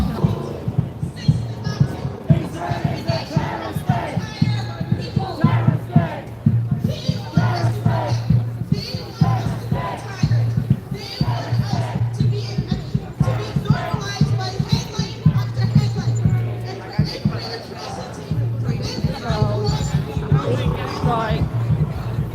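An outdoor crowd of about 1,000 people gathered in the road at night, a dense murmur of many voices and shuffling with footsteps and a steady hum underneath, a nearby voice speaking over it.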